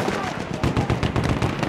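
Rapid machine gun fire in the World War I shooter Battlefield 1, a fast even rattle of shots close by, steady throughout the short burst.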